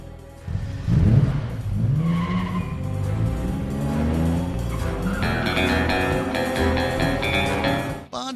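Aston Martin sliding into a skid during a James Bond film chase, a loud screech of tyres over a roaring engine for several seconds, with swelling orchestral music behind it.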